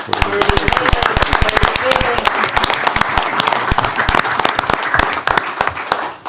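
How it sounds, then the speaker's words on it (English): An audience breaks into sustained applause at the close of a State of the City report during a board of directors meeting, many hands clapping loudly and densely for several seconds before tapering slightly at the end. "I think that requires a round of applause."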